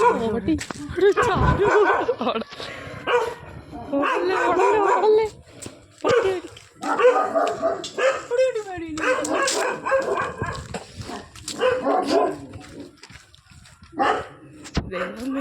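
A dog barks in scattered bursts amid ongoing conversation, with people talking over and between the barks, during an evening walk near Neyyar Dam.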